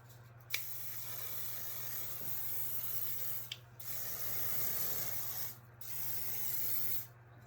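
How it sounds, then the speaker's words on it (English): Hairspray hisses onto styled hair in a vintage hairdo, with several soft, fairly close aerosol bursts separated by short pauses and quiet rustling between them. "Hairspray."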